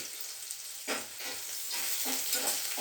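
Chopped onions and green chillies hit hot oil with a sudden sizzle that settles into a steady crackling fry, with a few stirring scrapes, close and alone without talk.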